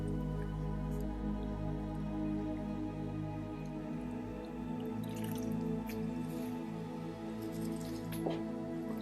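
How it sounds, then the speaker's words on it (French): Water rinsing a beauty product off skin gives quiet, close dripping and soft wet squishes over a low steady hum, with a few sharper drops. "Et je viens donc rincer le produit."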